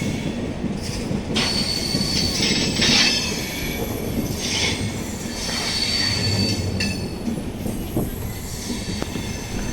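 A train rumbles steadily along the tracks nearby during flooding, with metallic wheel squeals and rattling clatter throughout, loud and continuous with no talking.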